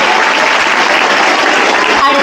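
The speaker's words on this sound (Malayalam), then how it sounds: "ഒരു നല്ല കൈയടി കൊടുക്കാം ആദിത് കൃഷ്ണ." A crowd claps steadily at a 2024 school admission festival at Paruthur higher secondary school in Pallippuram, with dense, even applause filling the whole stretch and no gaps.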